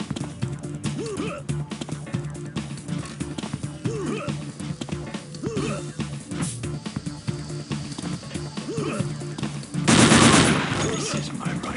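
Rifle gunfire from Unreal Tournament 2004 sounds in rapid repeated bursts over a steady game music bed, with a louder, denser blast near the end.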